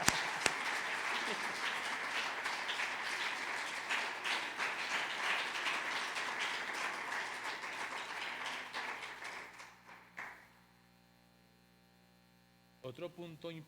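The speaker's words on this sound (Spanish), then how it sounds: "si ese aplauso es para el Señor" A church congregation applauds during a family service, sustained clapping that fades out after about ten seconds, leaving low mains hum, then a few faint taps.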